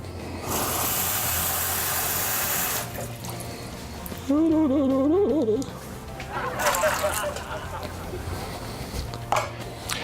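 Water runs from a tap into a container for a few seconds, then a voice hums a wavering tune while dishes and utensils clink nearby.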